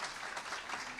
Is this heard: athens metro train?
no